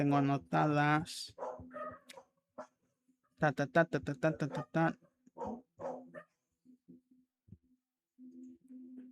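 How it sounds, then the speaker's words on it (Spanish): Dogs indoors give several sharp barks and yips followed by softer whimpers, loud and close, mixed with someone talking over them before things quiet down. "ya se calmaron los perros"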